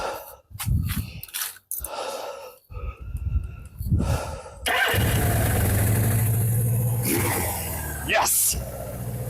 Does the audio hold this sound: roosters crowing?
no